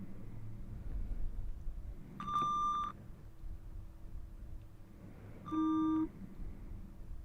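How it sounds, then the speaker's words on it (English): Two clear electronic hearing-test tones sound in turn, a higher steady beep followed after a pause by a lower one, over a soft background hiss. "Now you're going to hear some beeps in both ears"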